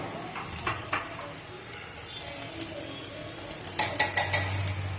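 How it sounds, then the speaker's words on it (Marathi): Curd and a gram flour mix go into a pan of hot kadhi tempering, with soft sizzling, a few clinks of utensils against the pan and a burst of louder stirring and scraping near the end. "आता याच्यात आपण दही आणि मिक्स केलेले बेसन पीठ घालणार आहोत"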